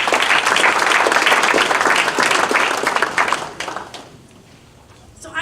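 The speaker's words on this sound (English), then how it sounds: "let's give them a round of applause" A conference audience applauds panelists at an Ohio trustees higher-education event, with dense, loud clapping filling the room for several seconds before tapering off to a few scattered claps.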